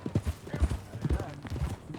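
Rhythmic clip-clop of horse hooves in the video game Red Dead Redemption 2, fairly close, with voices talking over them throughout.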